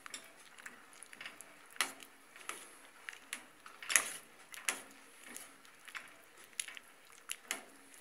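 Dry pasta being stirred in a pot on the stove, a run of soft scraping clinks and wet squishing strokes repeating irregularly at close range, with no voices.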